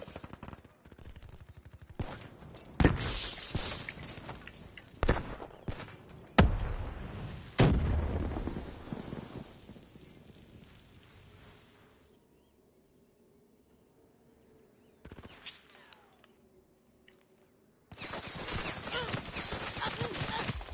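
Video game gunfire, loud bursts of rapid automatic shots in separate volleys that break off into a quiet stretch before a final sustained burst, with no talk.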